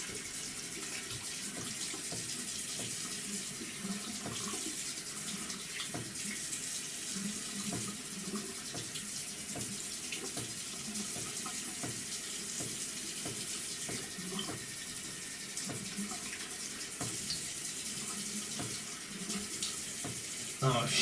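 Running tap water rinsing shaving soap off skin at a sink, a steady faint splashing stream with small irregular splashes throughout, no talking.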